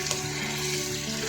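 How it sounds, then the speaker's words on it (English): Garlic onion paste for pav bhaji fries in a pan, giving a quiet, steady sizzle with a faint stirring texture and no voices. "Mix the all mixture of paste for 2 to 3 minutes till it is well cooked."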